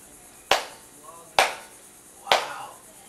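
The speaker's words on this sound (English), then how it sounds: "clap your hands again" Three sharp hand claps spaced about a second apart, each ringing briefly in an outdoor space in Belize, used to sense surroundings by echo; faint background murmur between claps.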